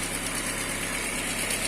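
A 2007 Volkswagen Gol G4 with the 1.0 EA111 engine idles in a workshop, a steady, even engine hum with faint mechanical vibration, running alone without talk.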